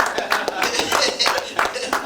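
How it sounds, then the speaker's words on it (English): A church audience gives a round of applause for the youth on Youth Sunday: dense, steady clapping from a crowd, close and continuous, with voices mixed in underneath. "Let's give our youth a round of applause"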